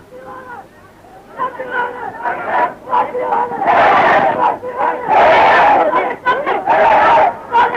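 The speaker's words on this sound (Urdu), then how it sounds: "نعرے بہت لگ گئے" A rally crowd chants religious slogans in loud, rhythmic bursts, many voices shouting in unison and repeating the same call several times.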